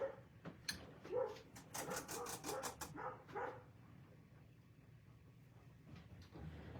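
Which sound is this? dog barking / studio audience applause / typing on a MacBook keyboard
dog barking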